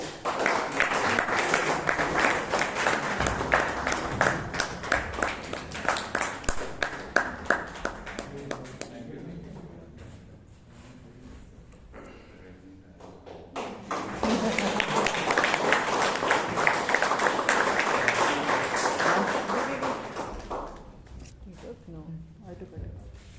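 Audience at a Bangalore Toastmasters club meeting breaks into two long rounds of dense, loud clapping, separated by a quieter stretch, with voices talking softly in between.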